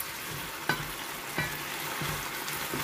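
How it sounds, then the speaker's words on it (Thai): Wild garlic flowers being stir-fried with fried garlic and ginger in a pan give a steady, close sizzle, broken by a few soft knocks of a spatula against the pan. "เราก็จะผัดให้ดอกกระเทียมตาสุกก่อนนะคะ"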